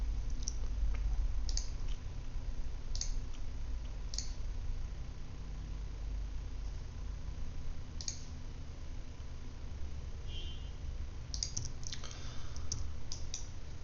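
Computer mouse clicks while drafting in Solidworks 2020, a dozen or so light, sharp clicks spaced irregularly over a steady low hum, with a quick cluster of clicks near the end.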